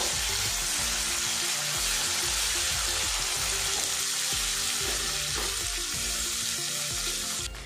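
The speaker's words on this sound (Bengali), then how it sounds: "মশলার সাথে পালং শাক পেস্ট আরও কিছুক্ষণ নাড়াচাড়া করে নেব" Spinach paste frying with spices in oil, a loud, continuous close sizzle with steady crackle and occasional stirring, no voices.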